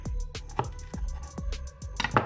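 A knife chopping chicken meat into small chunks on a board, a series of sharp, close, rhythmic thuds with short gaps, no speech.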